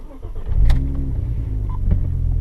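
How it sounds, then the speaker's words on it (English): A 2001 Audi RS4 B5 BiTurbo Avant pulls away with a deep, steady engine rumble heard from inside the car, along with a faint whir and a few small clicks. "The Audi RS4s sound really nice."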